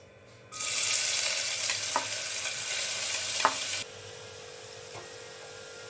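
Finely chopped onion, with mustard seeds and a pinch of asafoetida, sizzles loudly in a hot pan while being stirred, with a few scraping knocks. The sizzle then drops to a quieter, steady frying hiss with no voices.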